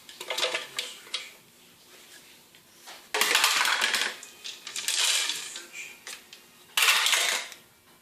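Hard nuts rattle and clatter into a container in several bursts, loud, close, bright clicking pours with short pauses between them.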